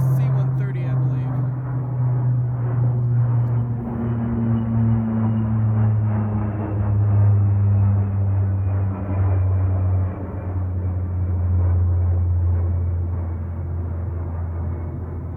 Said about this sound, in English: It's a C-130, I believe.